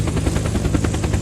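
A helicopter in the video game Unturned, its rotor thudding in a fast, even rhythm with a loud, close engine drone underneath, lasting just over a second with no voices.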